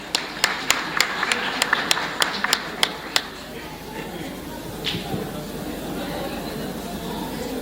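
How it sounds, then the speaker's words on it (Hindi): At a Christmas gala gift program, about ten sharp, evenly spaced claps ring out in the first few seconds, then fade into a murmuring crowd and a softer background din. "बहन के लिए भरपूर तालियां।"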